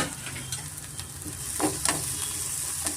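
A quarter teaspoon of fennel seeds sizzles in a hot pan, a continuous close crackle with a few sharper pops and light stirring.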